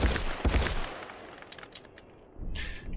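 Carbine AK-74 fires at a shooting range in Contractors VR, several sharp cracking shots in quick bursts up front, then a few sparser reports and a brief metallic rattle near the end.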